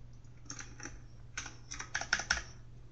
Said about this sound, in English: Or my very loud keyboard.